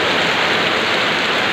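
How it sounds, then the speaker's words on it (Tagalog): Heavy rain pours down in Quezon City, a dense, steady, close hiss that fills the whole moment without a break and with no voices. "lalo na po ngayong malakas ang ulan"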